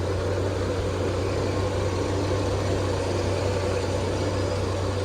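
A 1953 Chevrolet Bel Air convertible engine running at a steady idle, a continuous low mechanical hum and drone heard close and alone without talk, smooth and even throughout.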